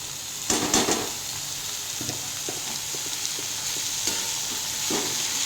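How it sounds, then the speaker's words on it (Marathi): Steamed wild vegetable greens being stirred into a pan, a continuous soft frying hiss with a few louder scraping strokes of a spoon near the start and scattered light clacks after, no voices. "यामध्ये मी आता ही वाफवलेली भाजी घालत आहे"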